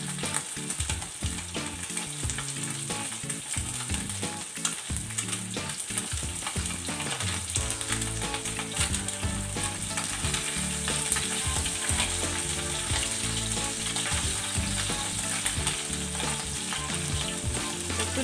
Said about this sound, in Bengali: একদিকটা ভালোই ভাজা হয়েছে